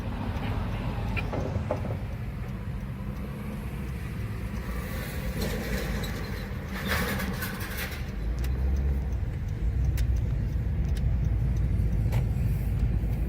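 Street traffic on a road flanked by street vendors, with cars passing on both sides: a steady low engine rumble and tire noise that swells and fades as vehicles go by, a few brighter swishes from nearer cars.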